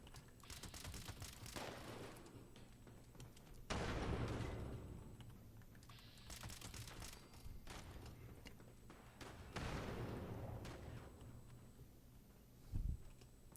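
Grenade blasts in the Fallout 76 video game: several loud, broad booming bursts spaced a few seconds apart, with clicky busy game noise between them and a short thump near the end.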